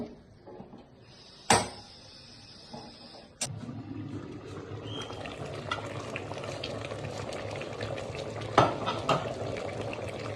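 A pressure cooker holding two and a half kilos of beef brisket is set on a gas stove with a sharp metallic clank and a few small knocks, then the burner catches and a steady, close roar continues with faint clatter.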